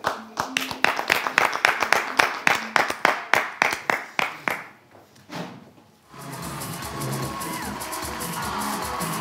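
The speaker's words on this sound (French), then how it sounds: "j'aimerais qu'on puisse l'applaudir pour une fois, Miss Profiler sur le plateau." Studio audience on a French television talk show applauding a guest's arrival: sharp rhythmic claps for several seconds, fading out, then a duller murmur of room noise and movement on set.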